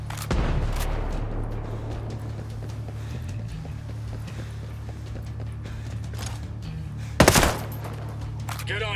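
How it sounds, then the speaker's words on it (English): Sniper and rifle gunfire in the Ghost Recon Breakpoint video game, with a loud sharp shot burst near seven seconds over steady ambient game noise and a low hum. "Snipers taking fire on us."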